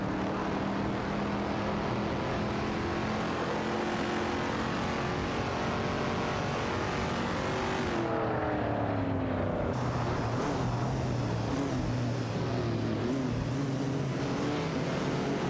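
Race car engines in an AI racing video game drone steadily with a continuous loud roar, pitch shifting as the cars accelerate and change gear, with no talk over them.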